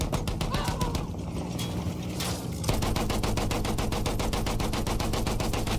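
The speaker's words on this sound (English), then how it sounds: "So you can zoom in with your machine guns." Tank machine guns in Battlefield 1 rattle in rapid sustained bursts, loud and close, with a short break before a dense continuous stream of fire resumes.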